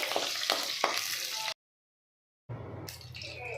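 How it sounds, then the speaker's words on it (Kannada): Chana dal fries in a pan with green and red chillies, a steady crackling sizzle with a few sharp pops, cut by about a second of silence before the frying sound resumes. "ಸ್ವಲ್ಪ ಕಡಲೆಬೇಳೆ ಹಾಕೊಂಡು ಚೆನ್ನಾಗಿ ಫ್ರೈ ಮಾಡ್ಕೋಬೇಕು"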